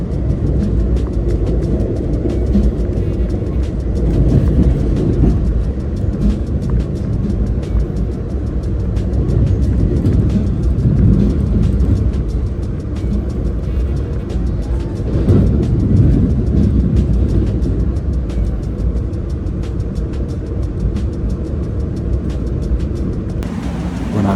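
Interior of a moving passenger train on the way to Milwaukee, with a steady low rumble and road-like drone holding loud and even throughout, no voices.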